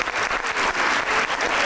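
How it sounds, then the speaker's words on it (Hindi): Studio audience at a Pakistani entertainment talk show clapping: a short burst of close, steady applause lasting under two seconds. "तालियां।"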